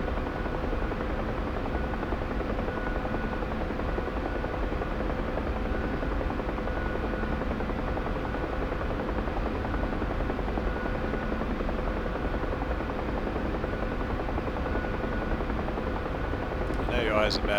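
A Huey helicopter flies on a snowy mission, its rotor and turbine making a loud, close, steady drone that continues unbroken for the whole stretch.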